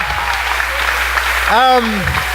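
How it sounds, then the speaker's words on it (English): An outdoor crowd at a community rally claps for a speaker, with a loud whoop or cheer rising above the steady clapping midway through. "Another round of applause for Cleo from the Bronx."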